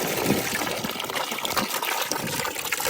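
Water drains from a 5-gallon bucket through a classifier screen during gold prospecting, a steady close trickling and gushing flow that runs continuously without talk.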